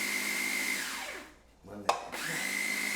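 An electric grinder whirs steadily at high speed, winds down into a brief lull with a short knock, then spins back up to the same fast, even whine.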